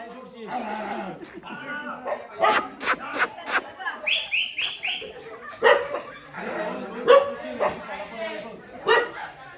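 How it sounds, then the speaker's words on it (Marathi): Dogs bark in short bursts among lively chatter and crowd noise on a Holi night during a Konkan village Shimga festival, the barks mixed in with several people talking. "कुत्रे आहे कुत्री आहे"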